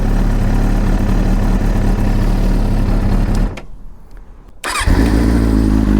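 A cold 2004 Daytona 600 motorcycle engine runs loudly up close, cuts out briefly, then fires back up and settles into a steady, low idle.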